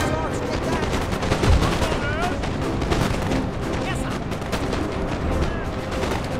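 Artillery and musket fire in the Napoleonic battle game Napoleon: Total War, with dense, continuous crackling volleys and booms rolling throughout under steady battle noise.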